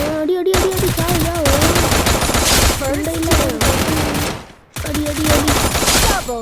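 Dense automatic gunfire in the mobile shooter game Free Fire MAX, loud and sustained in rapid bursts with a brief gap near the end, layered with game music tones.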